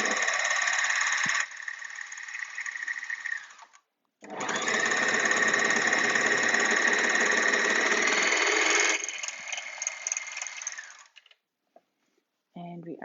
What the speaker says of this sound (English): we're stitching on the right side of the fabric.